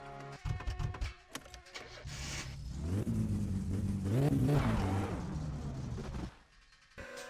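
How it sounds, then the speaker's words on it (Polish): Car engine starting on a broken-down Satsuma in My Summer Car: a few clicks, then a starter cranking and the engine catching into a rising, revving drone that holds for several seconds before cutting off, fairly quiet overall. "Ciekawe, czy mi zapali samochód teraz"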